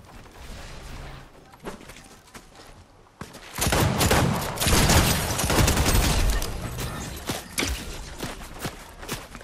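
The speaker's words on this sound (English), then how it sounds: "I'm getting shot by both ways." Gunfire crackles in a Fortnite match, scattered shots at first, then a dense, loud barrage of rapid shots from several directions for several seconds.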